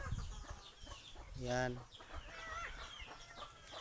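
Chickens clucking at their sleeping coop on a farm, with one louder squawk standing out amid scattered low clucks; someone speaks briefly nearby.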